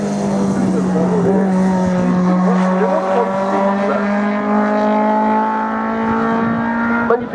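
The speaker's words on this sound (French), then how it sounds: "à l'instant devant nous. Alpine à 110." An Alpine A110 race car at a regional hill climb in Hébécrevon, 2024, sustains a loud, steady, high engine drone close by with only slight pitch shifts, as it passes.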